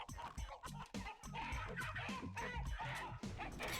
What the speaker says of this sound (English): These chicken noises